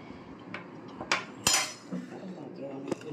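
Cutlery and dishes clink in a few sharp, separate knocks as two people sit down to a home meal, the clatter close by over a quiet room.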